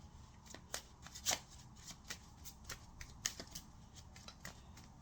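Tarot cards being shuffled close up, giving a quick run of crisp riffling snaps and flicks at an uneven rhythm, fairly quiet, with no talking.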